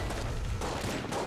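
Rapid gunfire from a weapon in the video game Enter the Gungeon, a dense run of shots that fills the whole stretch at steady loudness with no pauses.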